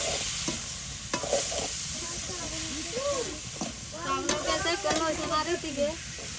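Small river fish and potatoes stir-fry in a pan in a village home kitchen, with a close hissing sizzle and scraping stirs. Someone talks over the cooking through the second half.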